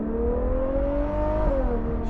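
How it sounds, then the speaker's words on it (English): A Ferrari 812 GTS engine revs up, its tone rising steadily, then drops back off near the end, heard from close by with no talking. "She does like to be revved."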